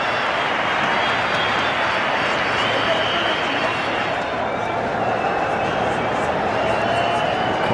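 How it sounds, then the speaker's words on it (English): Big stadium crowd at a Bangalore World Cup quarter final between India and Pakistan, a steady dense roar with scattered clapping holding loud and unbroken throughout, a commentator's voice faintly under it. "the crowd is roaring."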